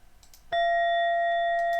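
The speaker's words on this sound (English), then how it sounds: "That just plays the bell that we've got there." A single loud strike of a Wisdom Timer meditation bell rings out, a clear pure tone with overtones that sustains evenly after the attack, preceded by a few faint clicks.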